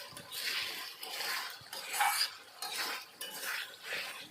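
Spiced amla (Indian gooseberry) pickle being stirred and sautéed in a pan over a high flame, with a steady scraping of a spoon against the pan and a soft sizzle rising and falling in rhythmic strokes throughout.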